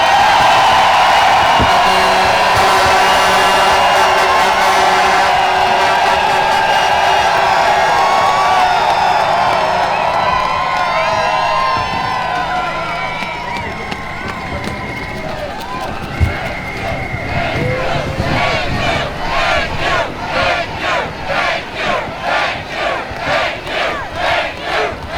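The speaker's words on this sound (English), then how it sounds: "So, Mr. Peckford, we're going to give you the biggest applause that we've done yet" An outdoor crowd at the Ottawa freedom rally cheers, shouts and applauds in a loud sustained roar, ending in rhythmic clapping.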